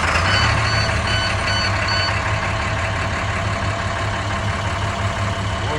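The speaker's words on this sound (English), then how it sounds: "I'm down starting my truck." A truck's diesel engine idles with a loud, steady low rumble and a constant mechanical drone, close by and without talking.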